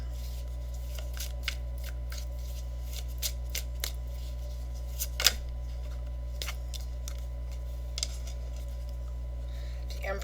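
Tarot cards are shuffled in soft, scattered flicks and riffles against a quiet background hum, with one sharper snap partway through and no voice heard.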